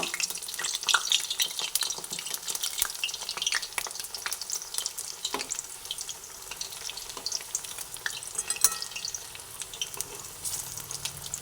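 Pieces of taro kebab frying in a pan give a continuous close sizzle and crackle, with occasional scrapes and clinks as they are turned. No one speaks.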